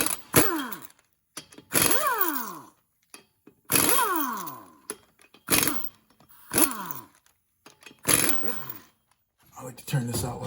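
Impact tool spinning off 19 mm lug nuts on the driver's side front wheel of a Chevy Cruze, six loud close bursts of rattling hammering, each falling in pitch as it winds down, separated by short pauses.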